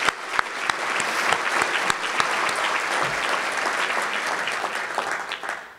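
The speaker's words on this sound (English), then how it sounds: "Let's give her a round of applause" An audience at a county government address breaks into sustained applause, dense clapping holding steady for several seconds before thinning out at the end, with no talking over it.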